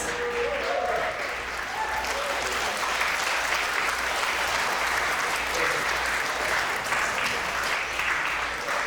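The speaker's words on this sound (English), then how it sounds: "Let's get a big round of applause for Chris." Guests at a wedding reception break into sustained applause for a speech, a full, even wash of clapping from a room-sized crowd lasting several seconds with faint murmuring beneath.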